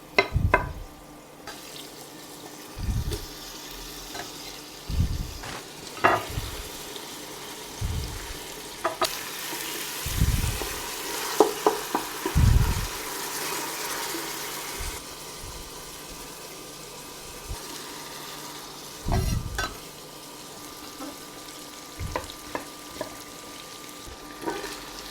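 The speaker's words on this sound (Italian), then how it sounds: "Un giro d'olio in pentola" Chopped vegetables sizzle steadily in a generous pour of olive oil in a pot for pasta and potatoes, with a constant frying hiss broken by periodic stirring scrapes and clunks, close and with no talking.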